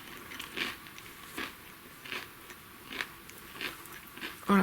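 Someone munches cookies nearby, sending out a steady run of crisp bites and crunches about every half second over a quiet background, with no talking.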